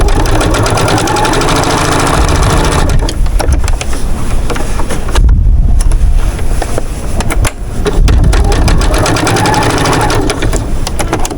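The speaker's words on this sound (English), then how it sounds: "and sew it this way and get back around rather than have all those little pieces to have to trim off all those threads" A sewing machine stitching quilt pieces runs loud and close in rapid mechanical bursts, stopping briefly around the middle before starting up again, with no talk.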